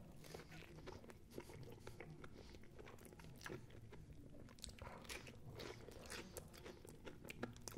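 Someone bites into a hot dog with onion in a potato roll and chews it close to the mic, making faint crunchy bites and wet chewing spread across several seconds, with no talk.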